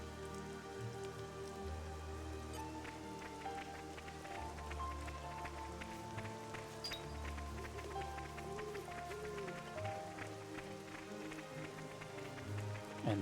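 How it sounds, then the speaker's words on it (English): Steady rainfall in the video game Xenoblade Chronicles 2: Torna, a constant patter of drops on surfaces beneath a soft game music bed, even and unbroken. "And again, it's raining. It's been raining a lot."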